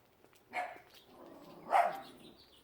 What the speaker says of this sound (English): And the neighbor's dog.